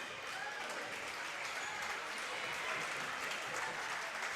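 Basketball crowd at an NBL1 men's game between Frankston and Hobart gives a player a sustained ovation, a dense, even wash of clapping heard from a distance, steady throughout.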